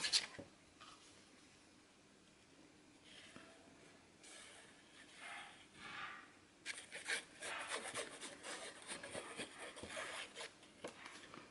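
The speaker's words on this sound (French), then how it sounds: "on va pouvoir coller le papier de fond" Background paper is glued onto a handmade card and rubbed down by hand, giving soft dry scraping and rubbing strokes that grow busier and more rhythmic toward the end, close and quiet.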